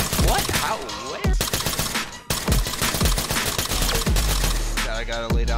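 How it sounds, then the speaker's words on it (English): Gunfire from the tactical shooter game Ready or Not: loud, rapid bursts and sustained volleys of automatic fire that barely pause, with sharp repeated shots stacked close together throughout. "I gotta lay down heavy fire, but my arms are fucked, so this recoil is rough"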